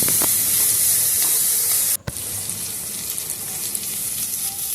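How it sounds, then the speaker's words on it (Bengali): Vegetables frying in oil in a pan for sabu pulao, a steady close sizzle and hiss throughout, broken by a brief quiet gap near the middle before resuming. "ভালো করে সবজিটা একটু ভাজা ভাজা হয়ে গেছে"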